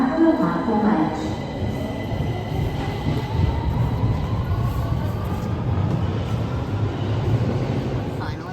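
A train rumbles steadily alongside a London station platform, a low continuous roll with a faint rising whine and brief voices near the start.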